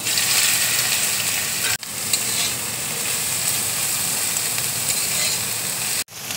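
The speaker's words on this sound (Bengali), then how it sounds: "এবার আমি মোচাটা তেলের মধ্যে দিয়ে দিচ্ছি।" Chopped banana flower dropped into hot mustard oil in a kadai, giving a continuous loud sizzle and crackle of frying, broken by two brief pauses, with no talking.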